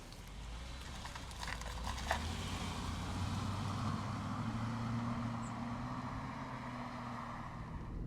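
A 1999 Mercedes-Benz S500 W220 cruises along a road, its low engine rumble blending with a steady wash of tyre and road noise and a few faint rattles from inside the cabin.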